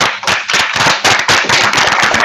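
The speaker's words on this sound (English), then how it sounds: "I want to make sure that you all give a big round of applause for Vikram." An audience welcomes a speaker at a startup seminar with loud, close, dense applause: rapid overlapping claps fill the room without pause and no one speaks over them.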